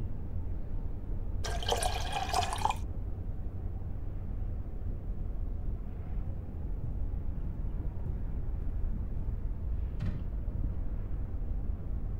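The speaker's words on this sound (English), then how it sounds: "I'll pour out the developer." Film developer liquid is poured out in the Black Mirror 2 video game, a soft trickling and filling sound over a low, steady ambient hum, with a couple of brief brighter accents.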